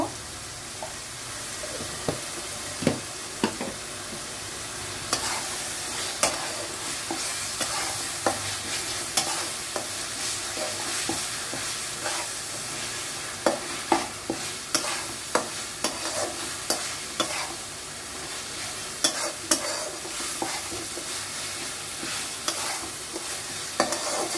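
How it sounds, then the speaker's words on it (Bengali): Kashmiri chilli powder frying in oil for a pork curry, with a steady close sizzle broken by repeated sharp scrapes and clicks of a spoon stirring against the pan throughout. "এখন আমি কাশ্মীরি লঙ্কার গুঁড়ো দিয়ে দিচ্ছি কালারের জন্য"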